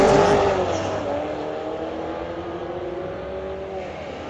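A 2024 Corvette at a street-legal drag night at Mission Raceway Park roars away from the line, engine revving loud and close then fading and dropping in pitch as it pulls down the strip.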